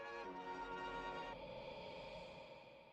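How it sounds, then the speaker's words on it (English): Eerie drawn-out tonal swell drenched in reverb, used as a transition in a freestyle beat, fading softly over a few seconds with no voices. "So we put some reverb on this bad boy, and it sounds like this."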